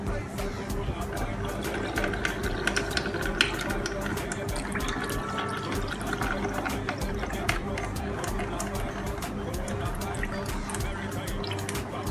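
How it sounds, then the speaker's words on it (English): Water runs and splashes steadily as liquid from boiled corn pours through a strainer into a bowl, with scattered drips and clinks over a dozen seconds. "I'm going to strain the water from the boiled corn"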